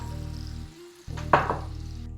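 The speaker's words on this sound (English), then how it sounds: "we're going to fry the pine nuts." Pine nuts fry in butter in a pan. A low hum drops out briefly, then returns with a short, brighter burst of sizzle and stirring. It is close and moderately loud, and no one speaks.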